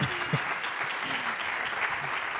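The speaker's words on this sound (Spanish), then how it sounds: "gracias por ese aplauso, de verdad que... pues ahí te llevas otro" A crowd claps steadily in warm applause at a live radio show broadcast from Aranda de Duero, sustained throughout with no pause.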